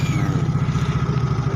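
A Yamaha Fino scooter engine runs at a steady, close idle, with a low, even chugging pulse that continues without a break.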